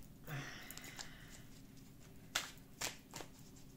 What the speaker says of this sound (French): je vais tirer cette carte du tarot